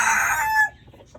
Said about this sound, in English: There's lots of chickens here.